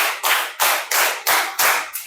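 Five loud, sharp group claps in a steady rhythm, evenly spaced and close, with no talking.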